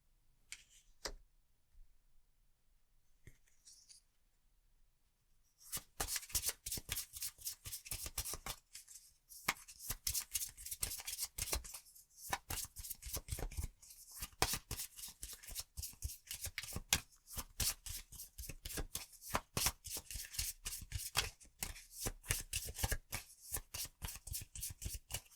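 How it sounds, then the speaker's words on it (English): Magic: The Gathering trading cards from a Wilds of Eldraine pack being shuffled up close: after a few seconds of near silence, a long run of dense, crisp riffling and flicking snaps with brief pauses, no talking. "I will go ahead and shuffle up the remaining cards"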